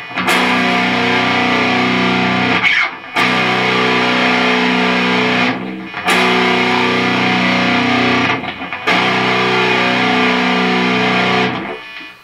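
Loud distorted electric guitar chords, four sustained strums each held a few seconds with short gaps between, played alone.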